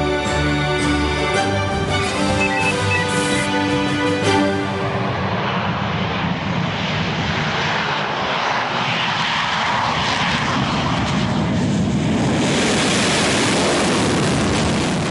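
A Sukhoi fighter jet's engine builds from a high whine into a loud, broad roar as the aircraft passes overhead, then stays as a sustained rumbling rush.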